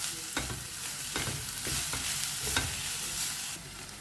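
Melting jaggery mixture is stirred continuously in a pan over a high flame, a steady sizzle with repeated scraping strokes of the spoon, close and alone.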